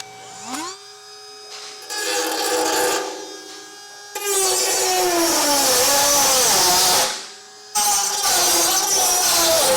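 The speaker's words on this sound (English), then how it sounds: "you can use a pair of tin snips or a rotating tool like we're going to be using today" A rotary tool cuts through the plastic bumper fascia of a 2017 GMC Acadia for a trailer hitch, whining in rising and falling bursts with brief pauses between passes.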